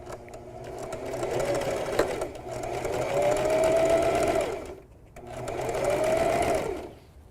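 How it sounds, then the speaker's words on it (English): A sewing machine stitches around the edge of a spiderweb-style fabric collar, running steadily in two close, even bursts separated by a brief pause. "You just want to make sure you're stitching all the way around, your collar"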